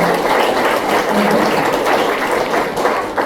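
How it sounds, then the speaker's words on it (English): Loud, dense applause from an audience for an interviewee at a gathering, continuous clapping that holds steady for a few seconds without talk over it. "Would you give her a round of applause?"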